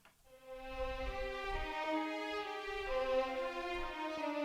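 Muted sordino violins from 8Dio Century Strings, panned to the right, playing soft sustained notes that swell in and hold steadily, with a gentle change of pitch partway through.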